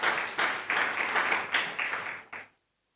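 A church congregation at a missionary service claps in bursts, about seven quick rhythmic surges of hands, moderately near, that stop abruptly into silence.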